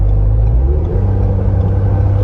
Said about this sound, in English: you get a little bit more turbo suck sound, like the induction sound, I guess, the suck sound, the turbo coming in